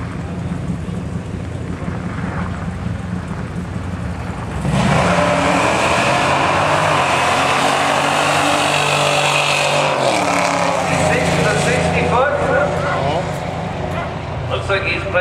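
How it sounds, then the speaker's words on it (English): A 3-liter Chevy small block car roars loudly through a burnout at a drag racing pass, engine noise building sharply partway through and holding at high volume, with crowd and commentator voices mixed underneath. "Does the little burnout. Small block. The O'Hare Energy 3-liter Chevy small block."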